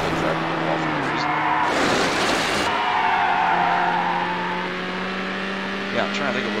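Racing in the video game Need For Speed Hot Pursuit 2: a steady engine drone that shifts pitch as the car accelerates, with a brief burst of tire screech partway through, loud and continuous throughout.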